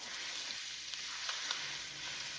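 Ground beef and Italian sausage brown in a pan with a steady, close, even sizzle and crackle, broken only by a few soft pops.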